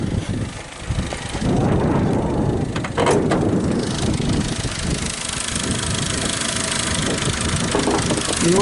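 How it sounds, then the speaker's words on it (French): A 2001-era Opel Corsa C with a 75 hp Ecotec 16-valve chain-driven petrol engine idles steadily up close, a low even rumble with a brief clunk early on. "Et voilà le petit moteur écoté"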